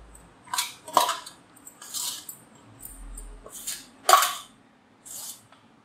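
A spoon scrapes and knocks against a pot in separate bursts while mango rice with fresh curry leaves is stirred and mixed, each stroke a short metallic clatter with quiet gaps between.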